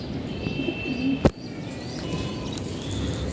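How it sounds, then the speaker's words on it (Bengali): A racing pigeon coos softly alongside chirps and a brief wing flap, heard close in a loft with steady background noise and no talk. "আমার বাবার কবুতর।"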